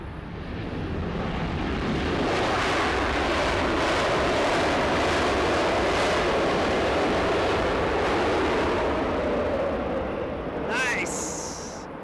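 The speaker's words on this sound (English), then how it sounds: "Some amazing sounds there by the Dreamliner." A Boeing 787 Dreamliner in Star Alliance livery lands at Los Angeles, its broadband jet roar swelling up close, holding loud for several seconds and then easing off.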